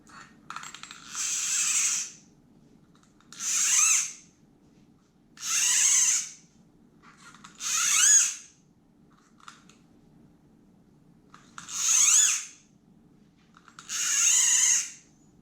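Fishing line pulled off a 25-year-old reel with its drag loosened, six rhythmic whirring bursts of about a second each, evenly spaced and close, with a faint low hum between pulls.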